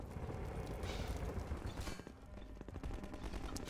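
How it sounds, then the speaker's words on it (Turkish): Distant gunfire in the video game Half-Life 2: a steady, dense crackle of shots rolling on without pause, moderately loud and fairly continuous, with no talking over it. "Hala bir yerlerden silah sesi geliyor ve bu beni ürkütüyor."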